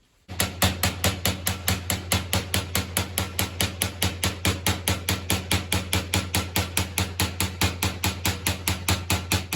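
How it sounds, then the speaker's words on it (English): Rapid, evenly spaced ball peen hammer blows ring on sheet metal being embossed, dozens of sharp metallic taps in a steady rhythm, close and alone. "I'm choked up real high on the ball peen hammer here."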